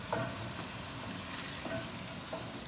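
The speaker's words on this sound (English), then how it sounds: "Now that the beef has started to brown up and really cook" Ground beef browns in a hot pan, giving a continuous close sizzle broken by a few scraping stirs of a spoon, with no voices.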